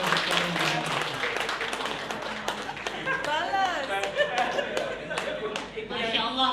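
An audience at an Indonesian nurses' association training event in Kuwait applauds warmly, steady clapping filling the room with scattered chuckles and a voice speaking over it.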